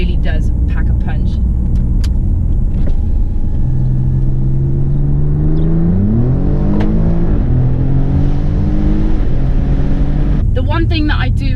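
An Alfa Romeo Giulia Quadrifoglio with a turbocharged aluminium-block 2.9 V6 revs and accelerates, its loud engine note climbing and shifting in pitch through gear changes, close and continuous.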